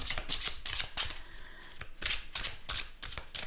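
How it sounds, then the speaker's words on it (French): Cat-themed spiritual tarot cards shuffled close up in bursts of crisp riffling, pausing briefly in the middle before the shuffling resumes, with no talking. "On tire une carte. Allez, on tire une carte."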